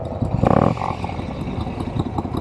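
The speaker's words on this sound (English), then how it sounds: "Listen to that Moto Guzzi." A Moto Guzzi motorcycle engine runs nearby, opening with a short loud burst of revving before settling into a rough, clattering rumble.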